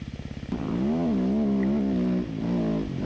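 A dirt bike revs from a rapid idle putter into a loud, rising and falling engine whine as it rides over jumps in snow, close and continuous.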